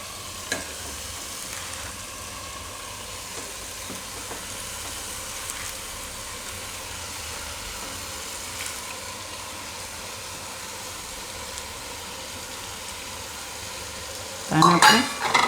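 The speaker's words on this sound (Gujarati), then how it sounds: "આમાં આપણે હવે આ પાલક નાખી દઈશું બધી" Spinach is stir-fried in a pan for Sindhi sai bhaji, a faint, steady sizzle running throughout, with a brief clatter of utensils near the end.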